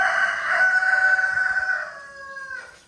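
A rooster crows loudly and close by in one long, drawn-out call that trails off, with faint rustling underneath.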